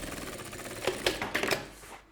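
A sewing machine stitching a backpack runs in a short burst of quick mechanical ticks, followed by several sharper clacks as it backstitches, close by and fairly quiet.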